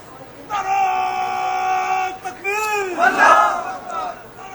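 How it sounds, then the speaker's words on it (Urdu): Pakistani army soldiers raise loud slogans together at an Independence Day event. The chanting comes as a booming, unified crowd roar after a sustained tonal sound. "پاک فوج کے جوانوں نے نعرہ تکبیر، اللہ اکبر، پاکستان زندہ باد اور پاک فوج پائندہ باد کے فلک شگاف نعرے بلند کیے"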